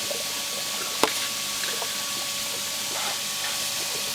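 A Jebao DC 6000 return pump runs in an aquarium sump, making a continuous wash of rushing water and a low hum, broken once by a sharp click.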